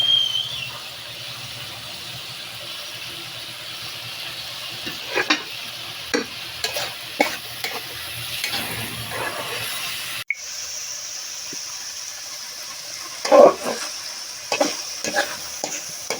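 Potatoes are stir-fried in a pan with roasted cumin powder and a splash of water: a bubbling sizzle marked by repeated scraping stirs, with a sharp pause midway before the stirring resumes. No one speaks.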